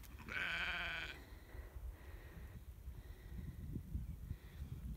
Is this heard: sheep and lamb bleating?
yes